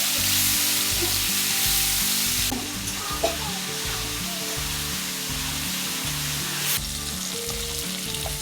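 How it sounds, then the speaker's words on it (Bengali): Fish frying in a hot wok: a loud, continuous sizzle and crackle of oil that stays close and steady for the whole stretch, with no talking. "কড়াইতে হচ্ছে মাছ ভাজা"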